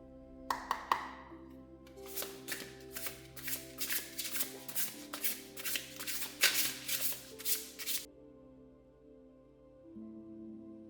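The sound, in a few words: shuffling tarot cards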